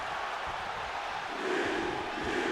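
A video-game arena crowd roars at a wrestling event in Las Vegas in WWE 2K25, a steady wall of distant cheering and chanting that swells slightly midway and stays constant throughout.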